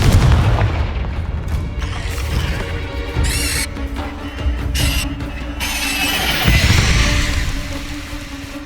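A Confringo spell explosion in the Hogwarts Legacy video game, heavy booming blasts and crashing debris over rumbling game sound, loud throughout.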